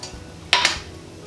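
A metal teaspoon clinks twice against a dish while spices for a vegan Mexican three-bean chilli are being measured out. The two sharp, bright taps come close together and sound near and clear against a quiet kitchen.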